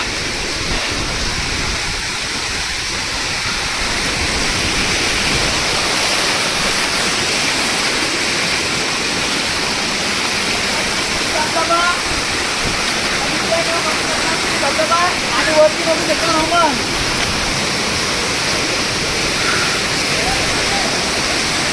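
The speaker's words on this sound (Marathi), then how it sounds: "वरती धबधबा लय भारी आहे" A waterfall at Shri Malanggad roars steadily, a dense, continuous rush of falling water that fills the scene, with faint voices now and then beneath it.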